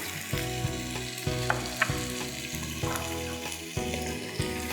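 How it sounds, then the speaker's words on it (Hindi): Peanuts fry and sizzle steadily in a pan while a utensil scrapes and stirs them, with clinks and knocks over a continuous, fairly loud crackle and no speech. "अब इसके बाद हम इसमें डाल देंगे पीनट्स"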